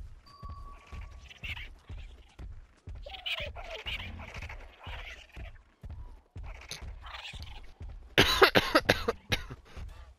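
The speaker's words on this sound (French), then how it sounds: "Parce que j'ai tout le temps toussé en ce moment." A person coughs in a quick cluster of harsh bursts near the end, over a steady, rhythmic thumping in the background, with faint talk earlier on.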